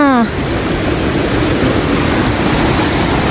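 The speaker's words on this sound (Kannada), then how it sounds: "ನೀರು ಹೆಂಗ್ ಬರ್ತೈತೆ ಅಂದ್ರೆ ನೋಡಿ ಗಾಯ್ಸ್ ಏನ್ ಸಖತ್ ಫೋರ್ಸಾಗಿ ಬರ್ತೈತೆ ನೀರು" Water rushes with a loud, constant roar, like a powerful torrent close by; a short tonal sound opens the clip before the steady gushing.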